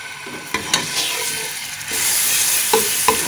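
Small onions browning with ginger garlic paste sizzle steadily in a hot pan, broken by a few scraping stirs of a spoon, close and alone.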